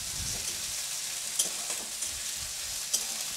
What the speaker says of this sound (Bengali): এবার আমরা সবকটাকে একবারে মিশ্রণ করে এটাকে আমরা তেলে ভালো করে ফ্রাই করে নেব